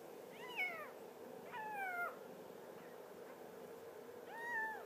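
A two-week-old platinum point male kitten mews three times, thin rising and falling cries spaced apart, close by and fairly quiet over a soft room hush.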